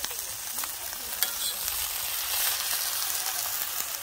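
Shrimp fry in a hot pan and are stirred, giving a steady close sizzle with small scraping clicks of the utensil throughout.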